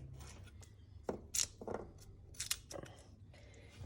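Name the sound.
chopping purple garlic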